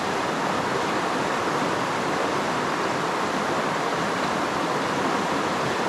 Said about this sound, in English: I'm putting it right into the river here. I'm leaving a little bit of room at the top for air to come out as water comes in.